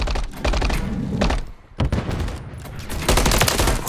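Sustained rapid gunfire in a Call of Duty MW3 ranked match: a loud, close automatic volley with repeated shot bursts, a brief lull midway, then heavier firing resuming.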